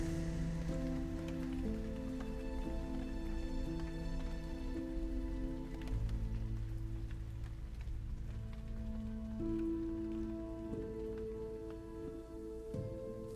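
Steady rain patters on a surface in a continuous, even wash of drops, close and moderately loud, layered under a soft sustained musical drone in a narrated horror story.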